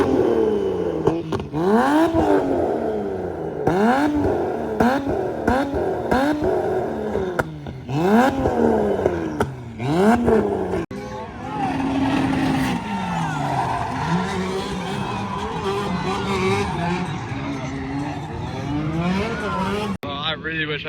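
Drift cars at a drift event slide with repeated tire squeals and rising, falling engine revs, some passes loud and close and others farther off. Several people talk over the sound.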